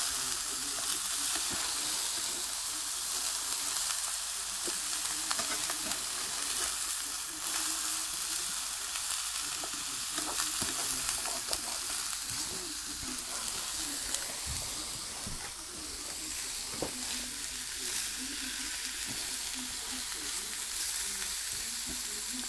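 Butternut squash and pak choi stir fry being stirred with a spatula: a loud, continuous hissing sizzle with frequent scraping and clicking strokes throughout, close up and steady.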